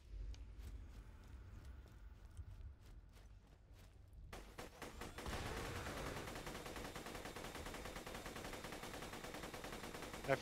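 Video game gunfire in Borderlands 2: a run of separate shots at first, then a dense, sustained burst of rapid fire that fills the rest of the clip at steady loudness.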